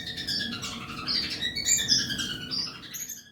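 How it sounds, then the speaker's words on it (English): Quail finches in an aviary chatter with dense, high squeaky calls that overlap continuously at moderate loudness, rising into a few sharper peaks around the middle, with no talking. "Why does all of a sudden it sound like the quail finches are laughing at me?"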